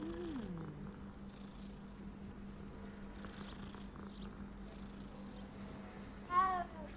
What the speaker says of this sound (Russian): О, еще один котик. Можем погладить котика.